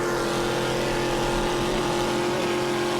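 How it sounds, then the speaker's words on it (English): A race boat engine roars loudly and continuously during an offshore powerboat race through a corner, holding a high, steady pitch with slight stuttering as it bounces against the rev limiter. "You can hear it bouncing off the rev limiter box there a little bit, coming through the corner."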